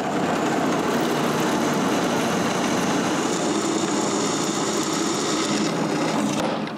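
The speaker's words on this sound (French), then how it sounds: "je déplace mon patron et je retourne à la perceuse à colonne." Drill press boring through aluminium plate in a home workshop during a CNC machine rebuild, a steady continuous whir and grinding that runs loud and unbroken for several seconds before stopping abruptly, with no talk.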